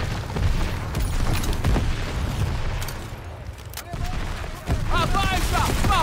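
Artillery barrage and gunfire in the video game Call of Duty WWII, a continuous rumbling din of explosions and shots with voices shouting over it.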